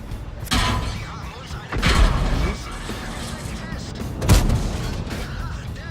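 Artillery shells slam into a Tiger II heavy tank in World of Tanks, giving several heavy booming impacts spaced a couple of seconds apart over a constant mechanical rumble, loud and close.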